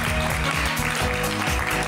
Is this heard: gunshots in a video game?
no